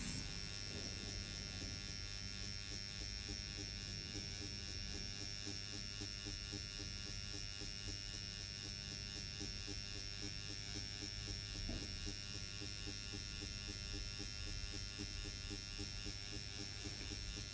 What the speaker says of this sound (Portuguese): Eu estou utilizando o meu dermógrafo na velocidade 90